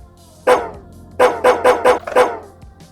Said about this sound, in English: Small white dog. Might be feral.